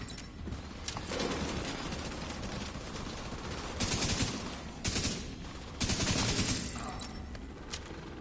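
A Kingbreaker assault rifle in The Division 2 fires in dense, loud bursts over a busy game soundscape, with heavier volleys standing out intermittently amid continuous combat noise.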